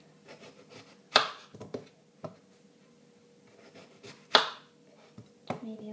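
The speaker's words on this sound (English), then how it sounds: "so now you can begin chopping just some of it" A knife chops salad ingredients on a cutting board in a slow, irregular series of crisp taps, two of them noticeably louder, close up with no talking.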